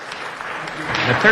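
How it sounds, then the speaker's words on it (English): A crowd at a city council meeting applauds steadily, a dense wash of clapping hands at moderate loudness throughout. "They, too, deserve a big round of applause"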